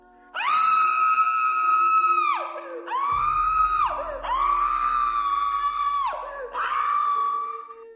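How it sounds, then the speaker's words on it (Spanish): A woman's scream of terror rings out as a sound effect, four long, loud, sustained shrieks in quick succession, close and alone. "Un grito de espanto suspendió la misión."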